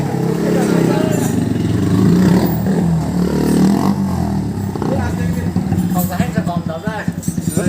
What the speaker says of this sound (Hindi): साउंड सुनो, साउंड भाई एग्जॉस्ट खोल लिया है।